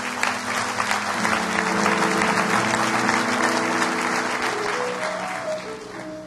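A church congregation applauding, a sustained wash of clapping that holds steady for several seconds before tapering off, with a faint tone and a little voice underneath.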